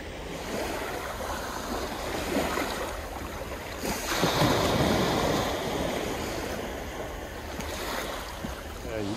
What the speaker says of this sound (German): Hier ist wenigstens wieder mal mehr Brandung, Wellen.